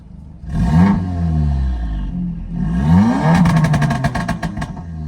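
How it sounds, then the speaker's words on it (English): A 2017 Audi S3 engine revs loudly twice through an aftermarket exhaust, the second rev ending in rapid crackling pops. "Car does have an aftermarket exhaust as well."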